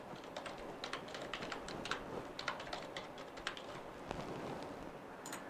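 Soft, quiet typing on a computer keyboard while filling in an online application form, with irregular clusters of light key clicks and brief pauses.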